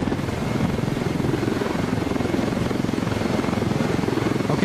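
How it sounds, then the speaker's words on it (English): A helicopter in the game Ghost Recon Wildlands carrying four soldiers gives a constant rapid rotor chop over a broad engine whine, loud and close throughout. "The 4 ghosts are in a helicopter."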